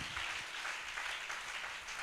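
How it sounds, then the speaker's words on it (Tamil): A congregation claps steadily through a Sunday worship service, a continuous, even wash of many hands that sounds soft and somewhat distant. "Let us clap all."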